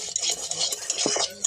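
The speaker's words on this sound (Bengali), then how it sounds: "ঘি দিয়ে ভালো করে নাড়াচাড়া করে নেব" A spoon stirs cooked rice with ghee in a pot, giving a brief, close run of soft scraping and clinking against the pot, with no talking.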